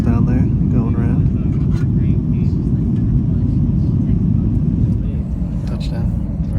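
Airliner touching down on the runway at Las Vegas after a flight from Jacksonville, a steady loud low rumble of engines and rolling wheels filling the cabin throughout, with faint voices underneath.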